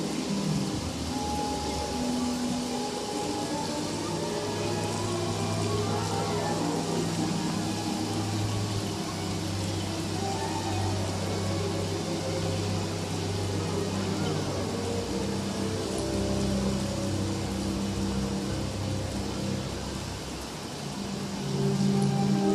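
Steady rain hisses on continuously for over twenty seconds as an even wash of drops, under a low droning tonal background and with no voices.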